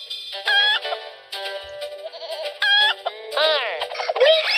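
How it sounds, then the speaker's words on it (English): Sheep bleats sound in the Elmo's Letter Adventure video game, several wavering cartoonish calls among clucking chicken-like animal noises, loud and close in the game's audio. "I hear a sheep."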